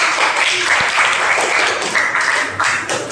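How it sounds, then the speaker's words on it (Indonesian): Dense, steady clapping from students in a classroom fills the whole moment, close and lively, with a few faint voices mixed into the applause. "Oke, sekali lagi tepuk tangan untuk."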